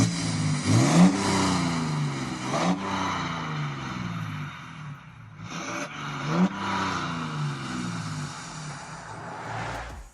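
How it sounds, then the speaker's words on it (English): A BMW N57 diesel engine with a straight pipe exhaust and the downpipe removed revs repeatedly, each rise a deep throaty swell climbing in pitch and falling back, loud and close with no talk. "The owner installed a straight pipe exhaust and removed the downpipe, so he now has a straight-through system."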